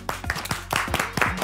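Studio audience clapping as guests walk onto a makeover show set, a small group of separate, fairly distinct claps in an uneven rhythm at moderate level, with some background tones.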